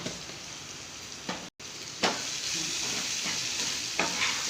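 Fish masala being stirred in a pan, a continuous bright sizzle with a few sharp scrapes of the spoon standing out, close up and with no voices.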